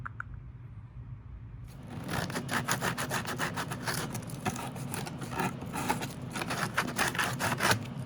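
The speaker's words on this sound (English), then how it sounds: "I'm using this drill bit to drill a bunch of holes here." A rough, grinding drill bit bores a series of holes through wood after a quiet start, with rasping bursts and shifting pitch, close by and fairly loud.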